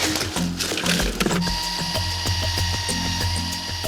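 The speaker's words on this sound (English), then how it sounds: "The drilling has started, so the tiny microchip can be placed in the horn." A power drill whines steadily at close range, its pitch shifting as it bites into a baby black rhino's horn, with a low rumbling background.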